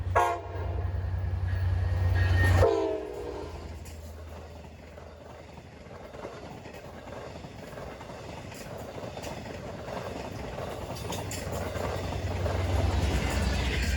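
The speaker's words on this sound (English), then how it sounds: "Our next catch is Montauk Branch Train number 6012 on its way to Montauk." Long Island Rail Road diesel train 6012 on the Montauk Branch, hauling about ten multi-level coaches toward Montauk: a loud low engine drone and a short horn blast near the start, then steady wheel and car rumble as the train passes close by.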